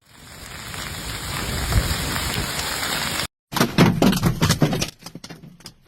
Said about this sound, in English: Severe storms were reported in Omaha, Nebraska, with sightings of large hail falling in some areas